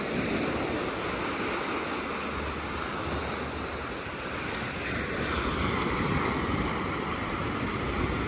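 Steady ocean surf washes along a beach at Playa Vista Azul on a calm day, a continuous broad roar mixed with wind buffeting the microphone and no voices.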